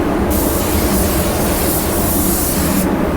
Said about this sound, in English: I'm gonna just hit that with a little reducer